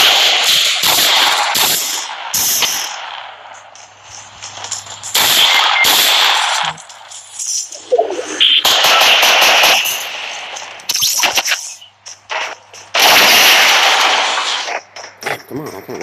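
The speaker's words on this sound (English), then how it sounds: "Someone's shooting at me" Rapid bursts of gunfire from the mobile battle royale game Fortnite, played on a Samsung Galaxy Note 8, come in repeated loud volleys with short gaps between them and no talking.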